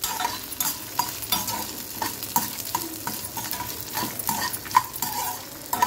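Sesame seeds and chopped elephant foot yam stirred and fried in a pan for a pendalam chutney, with steady sizzling and repeated scraping strokes of a spoon throughout, close and moderately loud, no voices.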